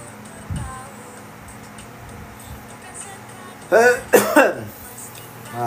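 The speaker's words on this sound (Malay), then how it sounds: "Batuk-batuk dulu mula." A few short, harsh coughs burst out close by, with a softer one earlier, against quiet background noise.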